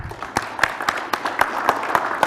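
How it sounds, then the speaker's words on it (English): An audience at an education conference claps in a short burst, with separate hand claps standing out in an uneven rhythm at moderate loudness and no speech over it. "Give yourselves a huge round of applause"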